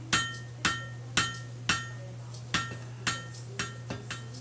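A blacksmith hand-hammers a forged steel bar into a fireplace tool handle, striking about nine sharp, ringing blows at a steady, unhurried pace over a constant low hum.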